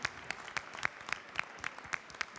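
Hands clap for kitchen assistants at a live cooking show, in a sparse, steady rhythm of individual claps roughly four per second, moderately close and with little else beneath them.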